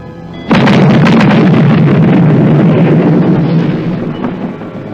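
Bomb explosion in a Christmas horror film, a sudden loud boom that bursts in early and rumbles on, slowly fading over several seconds.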